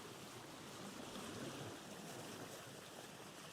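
Water washes and laps softly around a sailboat in the video game Vintage Story, a faint, steady, broadband wash with no distinct splashes and no talking.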